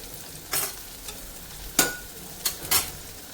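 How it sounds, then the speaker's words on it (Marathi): Mung beans are tipped into garlic frying in a pan, giving a few scattered bursts of sizzle and stirring scrapes over a quiet background, with no voices. "सो आता आपण यामध्ये मूग घालून घेऊया"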